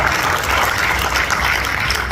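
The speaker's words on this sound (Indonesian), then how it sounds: "Beri tepuk tangan buat Bu Tamara" Audience applause for Bu Tamara at a church regional convention sermon, a dense, steady wash of clapping from a large crowd, loud and continuous with no talk.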